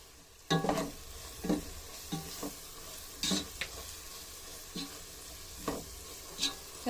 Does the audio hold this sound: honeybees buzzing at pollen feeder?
no